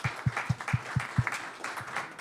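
Audience applause at a talk event in a shop, heard as crisp, evenly spaced claps in a quick steady rhythm, fairly close, thinning out toward the end.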